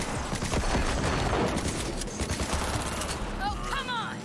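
Rapid bursts of gunfire ring out in the video game Cyberpunk 2077, loud and close, in dense overlapping volleys. A voice is heard near the end.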